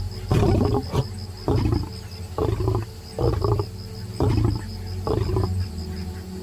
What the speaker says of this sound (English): there is a predator whose roar is the sound of thunder.